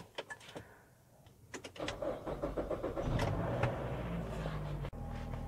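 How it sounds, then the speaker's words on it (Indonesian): A Nissan X-Trail T31 engine starts after a manual ECU reset: a starter cranks in a rapid rhythmic series, then the engine settles into a steady close idle, with no talk. "Sekarang hidupkan engine."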